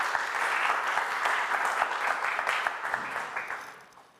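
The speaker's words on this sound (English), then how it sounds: "So I will ask for a big round of applause to these community members and these people making it happen," A tech conference audience in Madrid claps together, a full, lively burst of many hands that fades toward the end.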